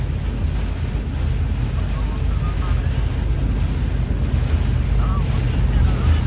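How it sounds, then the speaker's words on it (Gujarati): Strong storm wind roars continuously against the microphone in the Bhal area of Bhavnagar, a low buffeting rumble with a faint watery wash beneath it. "જ્યારે ફૂલે ફૂલ વાવાઝોડું છે"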